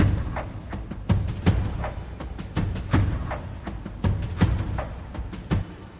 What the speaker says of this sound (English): Then I layered that with another percussion loop that sound like this.